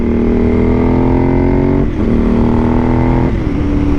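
Suzuki SV1000S V-twin engine running steadily during a ride, a loud continuous drone with harmonic tones that dip and shift briefly around gear or throttle changes.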